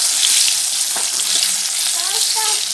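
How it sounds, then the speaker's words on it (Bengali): Vegetables sizzle in a wok with panch phoron spices, making a loud, continuous hiss of hot oil, with occasional scraping and stirring clinks throughout and no talking. "এবার আমি কড়াইতে পাঁচফোড়ন দিয়ে বাকি যে সবজিটা, সেই সবজিটাও আমি ভেজে নিচ্ছি"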